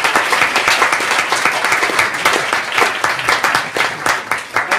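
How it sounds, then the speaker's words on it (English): Sustained applause from a conference audience at the close of a public health talk, dense clapping that continues steadily for several seconds with no speech over it. "Big round of applause too."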